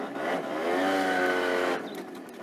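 A Suzuki Lets 2 scooter engine revs up and holds a strained, rising whine for over a second, then drops back as the clutch slips under load.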